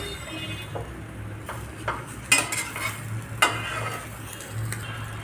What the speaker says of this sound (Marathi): उचटणीच्या साह्याने आपल्याला ही अशी पलटवून घ्यायचे आहे